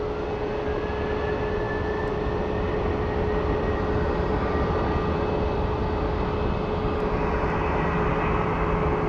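An airliner takes off from Phoenix Sky Harbor International Airport bound for Columbus, its engines giving a steady, loud, continuous roar with a faint tonal whine riding over it. No voices are heard.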